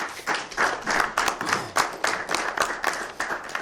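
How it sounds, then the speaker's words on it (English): An outdoor summer music event crowd on a pier applauding, a dense, steady patter of many hands clapping at moderate distance for several seconds. "So round of applause for KeyBank, please."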